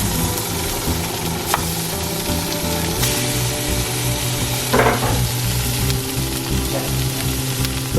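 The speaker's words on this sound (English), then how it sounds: "Now we're gonna add the salmon. Boom. Skin side down first." Salmon fillet laid skin side down into melted butter in a pan, sizzling and frying steadily and loudly throughout, with a few brief clinks of utensils against the pan.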